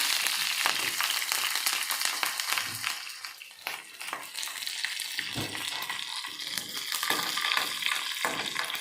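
Green chillies and peanuts frying in a pan, a steady loud sizzle with occasional stirring scrapes, close up and alone without talk.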